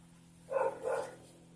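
A dog gives two quick barks close by, one right after the other, over a quiet background hum.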